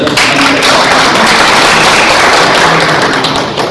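Sustained applause from an audience at an SCS Mithila gathering in Bihar or Jharkhand, a dense, steady wash of many hands clapping at the same loudness throughout, with no voices on top.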